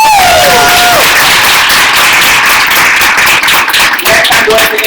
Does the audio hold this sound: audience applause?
yes